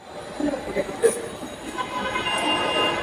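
A Dhaka metro rail train runs along the line near Agargaon, with a rising rumble of wheels and carriages, brief squeals, and a steady rolling roar building toward the end.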